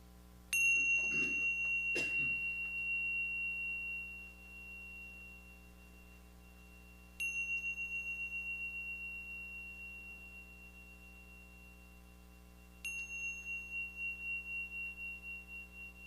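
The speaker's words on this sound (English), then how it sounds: "Lynn will now ring the Tibetan bells and read the daily word" Tibetan bells ring three times in a hushed spiritual service, each a clear bright strike whose pure tone sustains and slowly fades over several seconds. A soft rustle follows the first strike, and a low room hum sits beneath.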